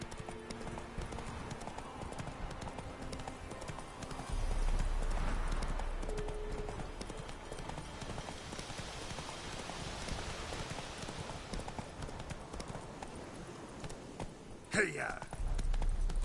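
Roach, the horse in The Witcher 3, trots with steady rhythmic hoofbeats under falling rain. A voice speaks at times, and near the end there is a brief louder burst.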